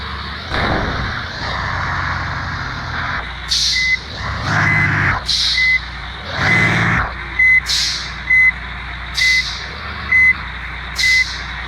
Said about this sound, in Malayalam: ഇപ്പോൾ വണ്ടി ഒരു വിധത്തിൽ പാർക്ക് ചെയ്തിട്ടേക്കുവാണ്